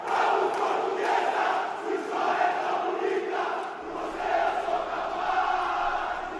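A football crowd of Portuguesa supporters cheering and chanting in a stadium, a broad swelling roar of many voices rising and falling in waves throughout.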